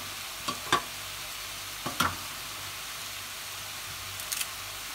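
Garlic, curry leaves and dried chillies sautéing in a pan for tomato chutney: a soft, steady frying hiss broken by a few distinct spatula scrapes and clinks, no one speaking.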